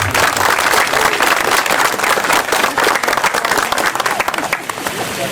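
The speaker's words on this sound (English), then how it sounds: "Now we can do a lot of claps." Dense, steady applause from a crowd at a Punjabi community gathering for a California governor candidate, loud and continuous throughout with sharp individual claps and faint cheering mixed in.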